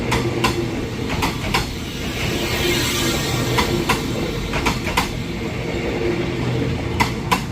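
A long daytime train rolls past on railway tracks near Bang Sue, a continuous rumble broken by sharp rhythmic clicks as wheels cross rail joints.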